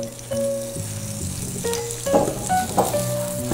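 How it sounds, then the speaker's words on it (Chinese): Onions stir-fry in olive oil: a continuous close sizzle with bursts of crackle as the pan is stirred, over a steady tonal hum in the background. "我们用洋葱炒香"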